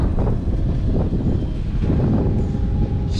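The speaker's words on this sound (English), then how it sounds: "the wind going crazy right now" Strong wind buffets the microphone outdoors during a cherry blossom photography shoot, a steady, loud low rumble with gusting swells that lasts throughout.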